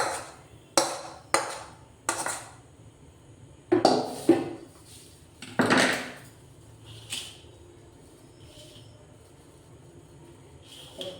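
Chana dal sandesh is moved out of a cooking pan onto a plate: a series of sharp metallic clanks and scrapes of utensil against pan, several in quick succession, then fading to a few softer taps.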